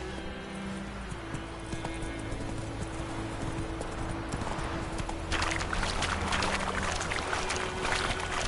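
In The Witcher 3, the horse Roach gallops with steady clip-clop hoofbeats over a continuous rushing background that grows louder and busier toward the end. No one speaks.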